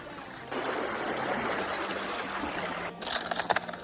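Creek water rushes and burbles steadily in a woodland setting, a close broadband wash lasting several seconds, then a short burst of sloshing splashes near the end as someone wades across the creek.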